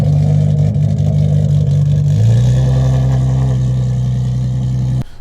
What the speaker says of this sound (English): My car is running really bad